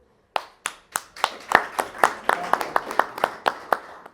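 Sharp hand claps start sparse, then a few more hands join into steady, moderately loud applause from a small crowd at a town festival in Zolochiv honoring soldiers.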